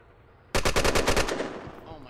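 A burst of about eight rapid, loud automatic gunshots in the online shooter Red Crucible: Firestorm, then a short fading echo.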